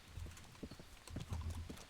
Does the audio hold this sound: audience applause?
no